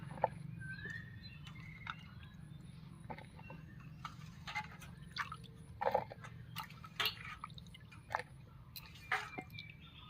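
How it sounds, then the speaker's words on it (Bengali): Chopped vegetables, including pumpkin, being washed by hand in water: quiet squelching, dripping and splashing in irregular bursts over a low background hum, close by and without speech. "সবজিগুলো সব কেটে নিয়েছি এবার ধুয়ে নিচ্ছি"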